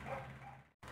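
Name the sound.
dogs barking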